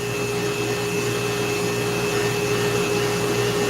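A Dremel rotary tool carves a wooden bald eagle head with a steady, continuous high-pitched whine and grinding hiss at close range, running unbroken throughout with no talking.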